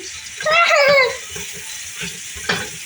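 A pancake fries in butter on a pan in a home kitchen, giving a soft, steady sizzle. A brief high voice rises over it near the start, and light clatter follows.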